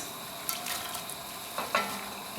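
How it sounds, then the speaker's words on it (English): Onions sizzling in hot oil at the start of a chicken biryani, a soft close crackle with a couple of brief stirring scrapes, fairly quiet. "I'm just going to add the onions"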